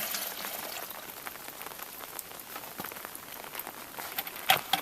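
Rain falls outdoors in Alaska, a dense patter of drops striking nearby surfaces with scattered louder taps, steady throughout and heard close by.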